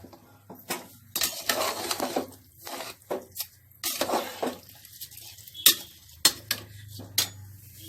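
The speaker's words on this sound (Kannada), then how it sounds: "ಅಕ್ಕಿ ಹಾಕಿದ್ಮೇಲೆ ಹಿಂಗೆ ತಿರುಗಿಸ್ಬೇಕು" Spoon scraping and clinking against a pot while stirring rice for chicken pulao, in irregular bursts of metallic scrapes with short pauses between, close and fairly clear.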